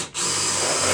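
Power drill fitted with a new sharp bit, working during Jeep Wrangler floor restoration, a steady high whirring drone after a brief dip at the start, close and loud, with no speech.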